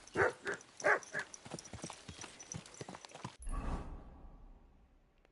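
Horse hooves clip-clop in Kingdom Come 2, a quick run of close, distinct hoofbeats with a brief snort-like burst toward the end.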